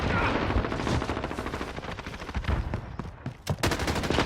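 Rapid automatic gunfire in the shooter Modern Warfare rattles in fast, loud bursts close by, joined by a few sharper single shots near the end.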